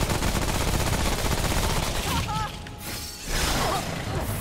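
A laser gun loaded with fire bullets being fired in the video game Remnant From the Ashes, dense continuous rapid shots with crackling impacts, loud and sustained, easing briefly before picking up again.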